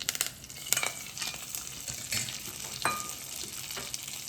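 Cumin seeds sizzle in hot oil in a pan for pongal, a steady close frying crackle with occasional stirring scrapes and sharper pops.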